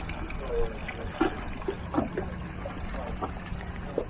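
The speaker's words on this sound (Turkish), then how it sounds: "Şu anda suyumuz doluyor." Water running into the tank of a MacGregor 26 sailboat at a marina, a soft steady trickle with light splashes and patters beneath faint surrounding noise.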